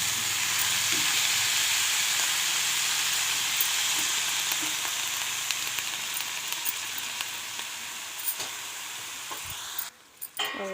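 Chopped mustard greens fry in a pan with a steady, bright sizzle and hiss that continues throughout, easing slightly and sputtering toward the end as stirring disturbs it.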